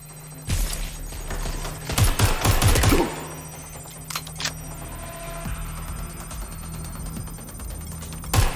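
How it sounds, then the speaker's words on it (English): Gunfire in the video game Watch Dogs Legion: a few bursts of shots, the loudest cluster lasting about a second, then a couple of quieter shots, over a steady low game hum. "Shots fired. Shots fired. They're shooting at us."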